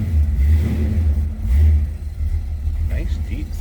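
A 1960 Ford Starliner Club Victoria hardtop with a 351 engine revving: a deep, throaty low rumble that swells and eases in two pushes, close and loud, with someone talking over it.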